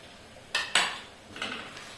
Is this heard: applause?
no